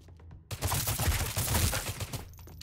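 Gunfire in the video game Badass Hero, with a sudden loud burst starting after a quiet moment and continuing as dense rapid shots before tapering off, no speech.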